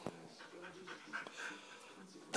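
A dog panting during a game of fetch makes quick, rhythmic huffing breaths and faint whimpers close to the listener, with a loud bump at the very end.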